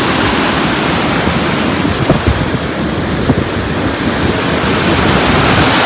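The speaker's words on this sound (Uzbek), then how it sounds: "Chiroyli sharshara chiqib qoldi oldimizda." A mountain waterfall pours down in a dense, loud, unbroken roar of rushing water, mixed with some wind buffeting the microphone.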